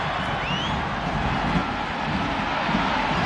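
Football stadium crowd at a Minnesota United versus LA Galaxy match, a steady, broad murmur and roar of many fans held at moderate level throughout, distant and even without sharp peaks.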